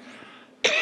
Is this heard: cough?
yes